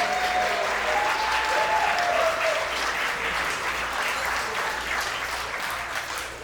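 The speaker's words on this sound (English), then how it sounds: "Let's get a little bit round of applause for Victor and Maria" Guests at a wedding reception give a round of applause for Victor and Maria. The clapping is dense and steady from the start and eases off slightly toward the end.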